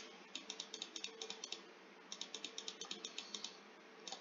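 A fast, steady string of close, quiet mouse clicks while playing Roblox Fame Simulator, running in dense bursts with only a short gap partway through, and no voices.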